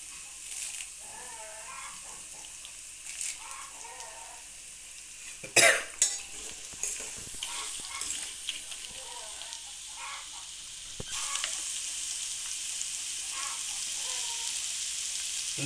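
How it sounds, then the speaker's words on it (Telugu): Curry leaves dropped into hot oil for a beetroot pachadi, sizzling and crackling with some stirring; a sharp burst of spattering rises midway, then the frying settles into a steady, brighter hiss. "ఇందులోని కరివేపాకు వేసేసుకుందాము."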